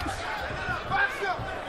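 Boxing crowd in an arena oohing at a right hand from Bradley in the Vargas vs Bradley fight, a swelling murmur of many voices that rises briefly near the middle, with a commentator talking over it.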